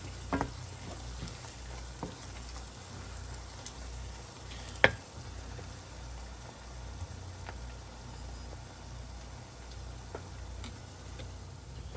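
Onions and bell peppers frying in a pan, a steady low sizzle running throughout with a few faint clicks and taps of a utensil, one sharper knock midway.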